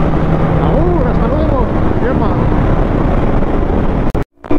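A Honda motorcycle engine runs hot and smooth at about 3000 rpm, a steady loud drone with rising and falling rev tones under heavy wind rush, cutting out briefly near the end.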